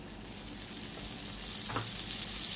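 A spoonful of butter sizzles as it melts in a hot pot for a restaurant-style meat dish, giving a soft, continuous hiss at low volume with one brief clink partway through.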